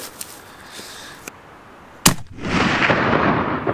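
A long-range hunting rifle fires one sharp, loud shot at a chamois buck in the mountains, cracking out over faint wind noise and followed by a rolling echo that lingers.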